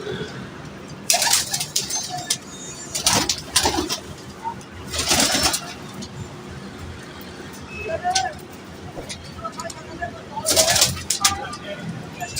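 Pigeons cooing in a loft among kept birds, soft repeated coos under a steady outdoor background hum, with louder bursts of rustling or flapping and some talking nearby.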